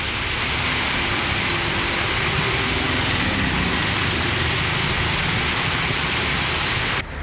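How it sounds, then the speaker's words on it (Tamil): Heavy rain pours down with strong wind around Virudhunagar and Sivakasi, a dense, loud, unbroken roar of downpour that holds steady the whole time with no voices. "பலத்த காற்றுடன் கனமழை கொட்டியது."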